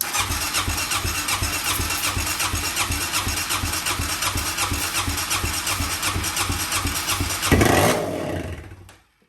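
An Arctic Cat DVX400 ATV engine, an LTZ400-type quad, runs with a steady rhythmic chugging idle, loud and close, then surges briefly near the end before cutting off into silence.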